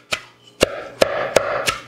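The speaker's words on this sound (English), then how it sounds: "So I'm going to also add in some cilantro. Give that a little chop." A knife chops cilantro on a wooden board for a Mexican chopped salad, five crisp, close thwacks spaced at an even, unhurried rhythm with brief quiet between strikes.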